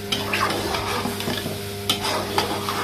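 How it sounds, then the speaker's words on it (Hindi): Potatoes and peas with masala for matar pulao being stir-fried in a pan, a steady sizzle broken by repeated scraping strokes and clinks of a spoon against the pan, close and without talk. "इसकी करनी है अभी अच्छे से भुनाई,"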